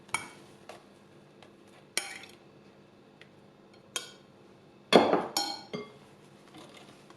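Beaten egg whites being folded into cake batter in a bowl, with a utensil giving sporadic light clinks and knocks against the bowl, a sharper cluster of clatter midway, and quiet gaps between.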